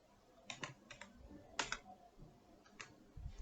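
Keys clack on a computer keyboard in short bursts of quick taps with pauses between, close and fairly quiet.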